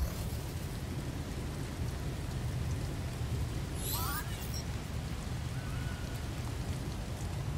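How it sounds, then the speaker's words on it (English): Steady rain from a toxic storm in the video game No Man's Sky, a constant dense hiss filling the whole stretch, with a brief brighter swish partway through. "It just sounds like it's raining. It's like a toxic storm or something."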